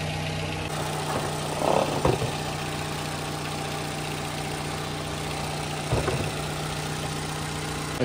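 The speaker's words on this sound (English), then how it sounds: "Engine is running right now, 10-15 minutes, so we got about 10 minutes left." A car engine idles during an engine flush, a steady low hum holding throughout at moderate level, with a couple of brief clunks and rustles near the start and again around the middle.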